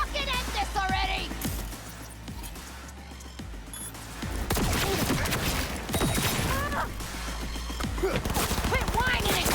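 Rapid bursts of gunfire from a firefight in the video game Cyberpunk 2077, loud and dense with metallic mechanical clatter, layered under excited voices and game audio throughout.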